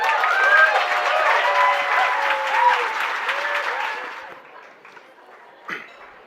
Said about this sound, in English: let's give another round of applause for everyone who has crossed this stage today